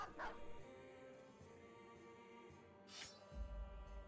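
Dogs fight in a battle in the medieval strategy game Battle Brothers, giving two short, faint barking yelps, one near the start and one near the end, over a quiet game soundtrack.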